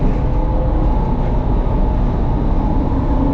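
Steady, loud rumble of a train in motion heard from inside a carriage near Zagreb, a continuous dense roar with no pauses.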